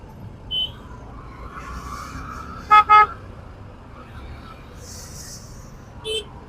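Two quick car-horn toots cut through a low, constant hum of Mumbai road traffic, with fainter honks and vehicle noise before and after.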